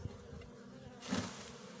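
A low, steady hum of many honeybees in a hive fills the clip, growing slightly louder and busier partway through, with no talking.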